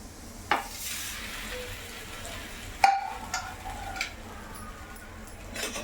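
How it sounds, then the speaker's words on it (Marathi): A leftover-chapati roti pizza set back on a hot tawa, with butter about to go round the edges, giving a steady low sizzle punctuated by a few sharp utensil clinks and taps, close by. "मी जो दुसरा तयार करून घेतला होता तो आपण आता परत तव्यावर ठेवणार आहोत"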